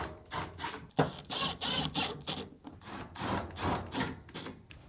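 Screws are driven into the lint duct of a Samsung dryer, rhythmic bursts of ratcheting and grinding from a driver, separated by short pauses, heard up close.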